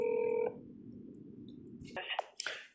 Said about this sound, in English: Local CPS location is not answering the phone.